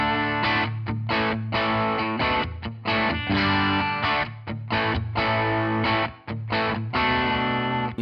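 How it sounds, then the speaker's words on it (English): Electric guitar played through an overdrive pedal for drive tones, loud and sustained, with rhythmic chord stabs and short gaps between strummed phrases. "I have a pedal specifically for like drive tones."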